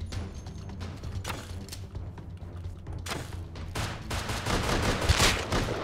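Gunfire in the survival game Rust crackles as a dense string of sharp shots and clattering reports that grows louder and busier toward the end, with no talk over it.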